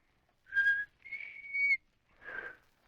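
Clear tonal whistling in two short phrases, then a breathy, airy attempt that trails off; close and fairly loud, no talking.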